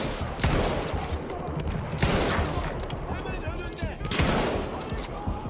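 Gunfire in the Battlefield video game: dense, loud bursts of rapid shots in three surges, with continuous combat noise filling the gaps.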